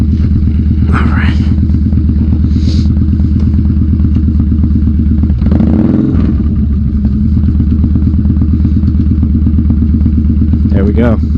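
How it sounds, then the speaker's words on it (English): Yamaha Bolt motorcycle engine rumbling steadily at close range while riding, a loud continuous low throb with brief revving swells and some clatter; voices occasionally break in over the engine. "That's my first impressions of the Yamaha Bolt."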